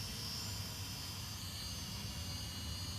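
A Hubsan 507A X Star Pro GPS drone flies nearby, giving off a steady, continuous high-pitched motor whine with an even buzzing drone throughout and no voices.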